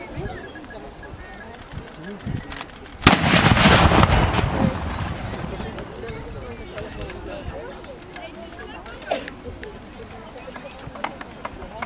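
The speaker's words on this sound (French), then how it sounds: "petite bombarde sur roue qu'on appelle aussi un courteau" A small wheeled bombard cannon, a courteau, fires with one loud sudden blast that rolls into a long rumbling decay, set among outdoor crowd murmur and birdsong with voices talking around it.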